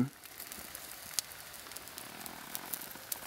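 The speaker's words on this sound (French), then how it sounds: "il commence à pleuvoir" Rain begins to fall outdoors beside a grill cooking a beef rib steak, a steady fine hiss of drops with scattered light ticks and crackles, faint and continuous throughout.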